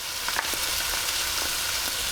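Garlic added to softened onions frying in a pan: a dense, continuous close sizzle with faint crackles throughout, no voices.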